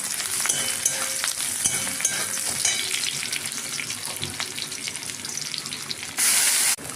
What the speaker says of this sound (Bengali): পেঁয়াজটা এদিকে ভাজা হয়ে যাচ্ছে